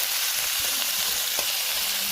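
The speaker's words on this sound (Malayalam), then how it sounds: "എന്നിട്ട് നല്ല പോലെ ഇളക്കാം." Bitter gourd frying with curry leaves and salt in a pan gives a steady, close, bright sizzle, with faint scraping knocks of a spoon stirring through it.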